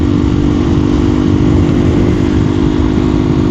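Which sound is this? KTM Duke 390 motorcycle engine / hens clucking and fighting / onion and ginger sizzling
KTM Duke 390 motorcycle engine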